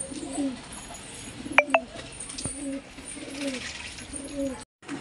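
Pigeons coo in soft, low, repeated rolling calls while being given a bath, with a couple of sharp metallic clinks partway through.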